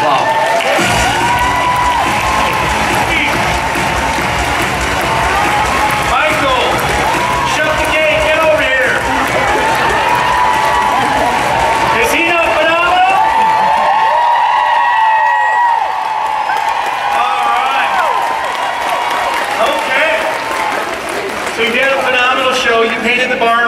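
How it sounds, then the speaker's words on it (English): A studio audience claps, cheers and whoops loudly for the host of a live comedy show, a dense, sustained roar of crowd noise with voices shouting over it throughout. "Let's give our host another great big round of applause."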